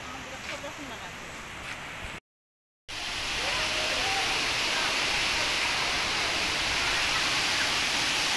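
A steady, loud roar of a waterfall fills the scene without a break, after a brief moment of quieter outdoor sound and a short cut; Tippi waterfall.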